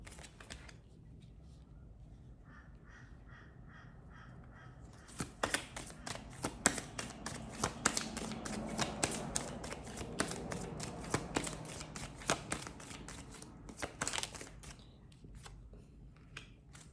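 Tarot cards being handled and shuffled, with soft rustling at first and then a run of quick riffling snaps and flicks, close up, while a person talks.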